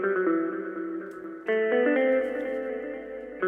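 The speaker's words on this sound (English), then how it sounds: "So the guitar sounds like this." A thin, jazzy guitar tone from the Nexus plugin with effects plays clean sustained chords and notes, with a brighter chord change midway and soft reverb tails, alone and fairly quiet.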